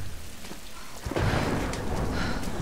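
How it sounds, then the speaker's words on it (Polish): Thunderstorm in Tomb Raider 2013: steady rain hiss suddenly swells with a loud rolling thunder crash about a second in, then heavy downpour continues with rumbling, no talking. "trzeba się schronić przed tą burzą"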